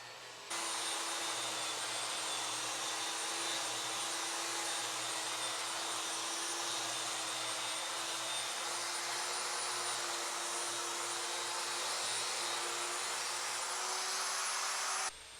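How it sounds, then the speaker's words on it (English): An Inokraft electric drywall sander with an 820-watt motor and variable speed runs as a loud, steady whine with a constant high tone. It starts at about half a second and holds evenly for around fifteen seconds, and no voices are heard. "This Inokraft drywall sander has a 820 watt motor and variable speeds from 600 to 1900 RPMs"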